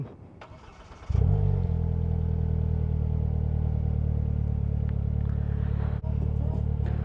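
A 2022 Slingshot SL starts after a brief crank, then its engine catches with a loud burst and settles into a steady, close idle rumble that holds to the end with a slight dip late on.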